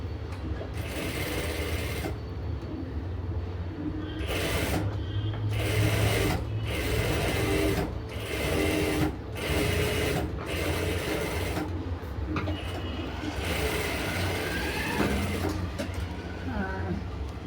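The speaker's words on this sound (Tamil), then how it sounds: "கீழே லைனிங் மெயின் ஃபேப்ரிக்கையும் மேலே லைனிங்கையும் வச்சுட்டு பெரிய லாங் ஸ்டிச் சுற்றி அடிச்சுட்டு அப்படி தான் நான் வந்து தைப்பேன்." A sewing machine runs a long stitch through lining and main fabric, rapid mechanical whirring in repeated bursts separated by brief pauses, close and loud, with a voice faintly underneath.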